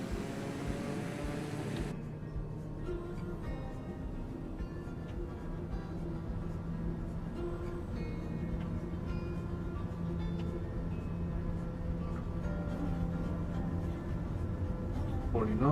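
A flight-simulator airliner rolls for takeoff from Halifax, a steady low engine drone with tonal hum building slowly and evenly throughout, rising slightly at the end.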